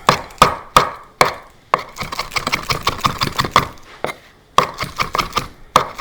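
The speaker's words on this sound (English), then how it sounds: "we're gonna finish chopping our parsley as garnish" Sharp, close knife chops on a cutting board, finely chopping parsley, fast irregular bursts with brief pauses between runs, loud and without speech.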